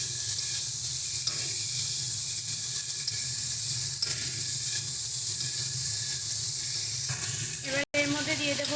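Dried loitta fish with flat beans and spices fries in a pan, a steady close sizzle and hiss running throughout with a few faint stirring scrapes, ending in a brief sharp cut.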